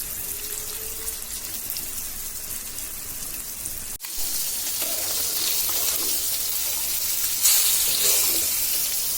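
Carp pieces fry in hot oil in a pan after being turned over. A steady, close, rain-like sizzle hisses throughout, with a brief knock near the middle and a louder surge of crackling toward the end.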